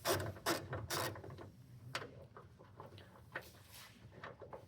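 A 12 mm socket on a ratchet loosens a bolt near the windshield of a Land Cruiser. It is heard close up as a few quick bursts of ratcheting clicks and a few metallic taps, fairly faint.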